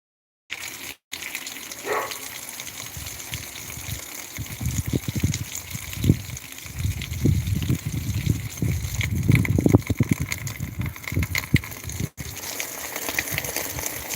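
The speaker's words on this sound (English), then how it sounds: "I'm just going to rinse it underneath the tap." Tap water runs steadily as a hubcap is rinsed beneath it, a continuous close splashing gush with irregular louder spatters as the stream hits the metal.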